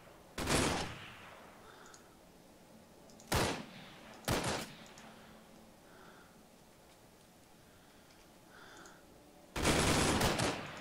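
Gunfire in the military shooter Arma 3: a single loud shot near the start, two sharp reports around the middle, then a long sustained burst at the end, with quiet game ambience between.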